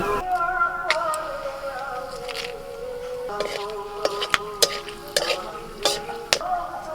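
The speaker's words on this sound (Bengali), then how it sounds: "তেজপাতা আর গোটা গরম মশলা ফোড়ন দিচ্ছি" Bay leaves and whole garam masala tempering in hot oil for a meat and potato curry, a steady sizzle with scattered sharp ticks and pops from the spices and a few clinks of a utensil against the pan.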